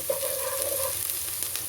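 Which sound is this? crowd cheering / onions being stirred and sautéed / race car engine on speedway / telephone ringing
onions being stirred and sautéed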